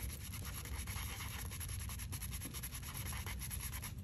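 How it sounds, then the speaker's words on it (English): A small handheld sander lightly buffs the surface of a resin tray with pressed flowers and a paper moth, giving a steady, close scratchy rubbing hiss that runs unbroken throughout. "I'm just going to take my little sander and just lightly sand it."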